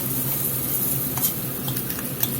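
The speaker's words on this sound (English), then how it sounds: "I'm going to put some garlic in." Garlic sizzles in a little oil in a skillet, a constant close frying hiss with a few faint utensil scrapes and clicks and no voices.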